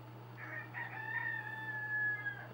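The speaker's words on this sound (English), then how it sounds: "That rooster's making a fuss." A rooster in a video game crows once, a drawn-out, fairly faint cock-a-doodle-doo over a steady low background hum.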